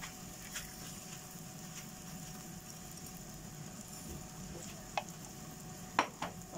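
Rice fries in butter or olive oil in a pan, a steady, faint, close sizzle and hiss under occasional stirring, with a couple of brief scraping clicks near the end.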